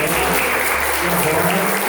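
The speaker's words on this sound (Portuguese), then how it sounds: "Louvado seja Deus, uma salva de palmas." Congregation applauding during a church service, a brief burst of steady clapping with a low hum underneath.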